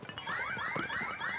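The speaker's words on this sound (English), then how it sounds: "No, don't set off your alarm," A rising, repeating electronic alarm tone sounds from a device in a Zelda video game, sweeping upward in quick cycles and holding steady and loud throughout.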